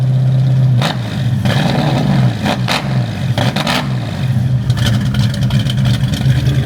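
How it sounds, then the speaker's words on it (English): A fastback Ford Mustang with a rich-running carburetor idles loudly up close, punctuated by several sharp throttle blips that rise and fall in quick bursts, with no talking. "Damn, this car sounds good."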